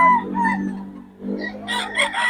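A rooster crows loudly and close by, a long drawn call that rises toward its end, with fowl clucking lightly around it.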